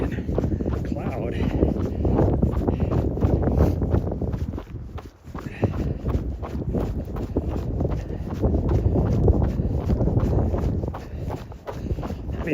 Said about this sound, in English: Oh, that wind is cold when that sun goes behind a freaking cloud.